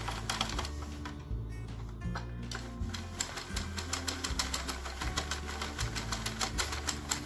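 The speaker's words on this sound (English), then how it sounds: "I'm using this knitting machine to make tubes" A knitting machine making tubes for a pixel-patterned blanket, with a busy run of rapid mechanical clicks and clacks and a low motor drone that shifts pitch as the carriage moves back and forth.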